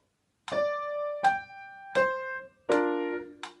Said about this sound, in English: Listen to the difference if I was legato.